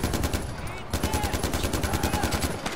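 Rapid automatic gunfire in Far Cry 4, close and loud, with sharp evenly spaced shots in fast bursts and a brief pause near the start.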